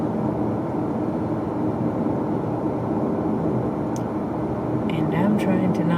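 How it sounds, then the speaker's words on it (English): Steady broadband road noise fills the cabin of a car driving in heavy traffic between Frankfort and Georgetown, a constant moderate rush and hum with no breaks. "Road has a lot of noise."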